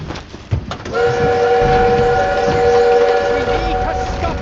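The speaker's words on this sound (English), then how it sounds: "need to stop that train!" A train in the Call of Duty WWII campaign blares a long, loud horn or whistle tone over rumbling wheels and battle noise, with a sharp thud just before it.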